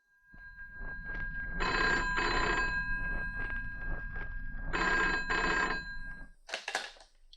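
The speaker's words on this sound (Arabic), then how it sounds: "تليفون." An old-style telephone bell rings loudly in two long bursts with a pause between them, clear and close, followed by a brief clatter as the receiver is picked up.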